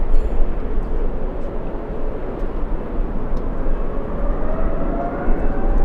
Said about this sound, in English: So the departure happening on the opposite direction of runway 25 left